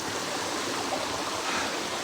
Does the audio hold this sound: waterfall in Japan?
yes